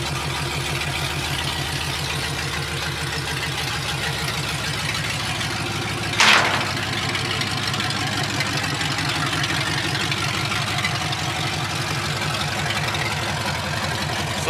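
A Chevrolet C10 Cheyenne engine idles with an open header and no exhaust fitted, a loud, steady, throbbing rumble that continues throughout, with a single short sharp crack near the middle.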